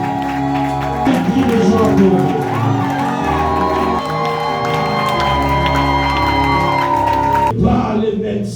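A church congregation cheers, shouts and whoops in acclaim over sustained music, a loud and continuous crowd roar with a voice heard briefly before the sound cuts off near the end.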